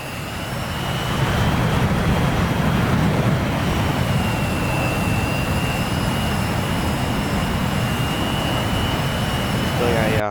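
Jet fighter engine at high run-up on the ground in a combat flight simulator game, a loud continuous roar with broad rumble and a faint high whine, steady and sustained throughout.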